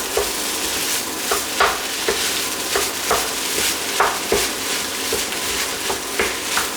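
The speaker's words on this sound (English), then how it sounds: "Turn back up the heat to the highest and just stir fry this." Chicken fried rice stir-fried in a wok over the highest heat, a constant loud sizzle broken by repeated scraping and tossing strokes of a spatula at an uneven rhythm, close up with no talking.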